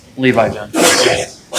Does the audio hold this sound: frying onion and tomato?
no